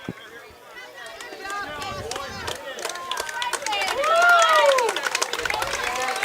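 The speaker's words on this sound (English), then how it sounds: "judging by the cheering from the Frankfort side" Frankfort fans at an 8U Town & Country baseball state final against Caston cheer and shout after the final out, with excited voices rising to a peak and a few claps mixed in.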